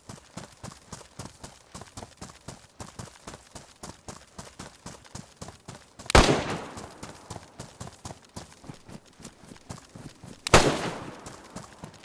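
Gunshots in the video game DayZ, two sharp loud cracks several seconds apart standing out over a steady rhythmic clopping of footsteps, close and punchy.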